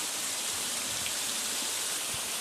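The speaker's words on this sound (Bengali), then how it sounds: "বৃষ্টি ভালো মানে বেশি হয়" Heavy rain pours steadily over a home courtyard that is close to flooding, a dense, even hiss of downpour holding from start to finish with no voices.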